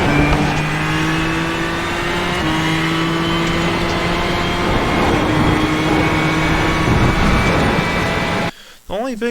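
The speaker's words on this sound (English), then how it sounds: "The only big difference I honestly notice is just how much he's revving the car out." A Ferrari GTE race car in the iRacing video game holds a steady high engine drone at Road Atlanta, its pitch shifting slightly as it revs, loud and continuous before cutting off abruptly near the end.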